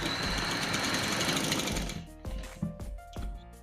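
A sewing machine stitches the neckline of a V collar, a steady loud run for about two seconds, then several short bursts with pauses in between.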